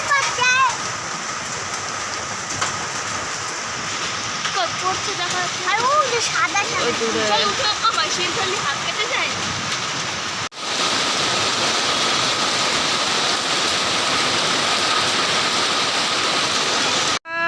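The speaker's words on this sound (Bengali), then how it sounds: "কেমন শিল পড়ছে বাবা, কি বড় বড়" Heavy rain with large hailstones pours down steadily in a rural Bengal yard, a dense continuous hiss and patter, with a voice speaking briefly over it.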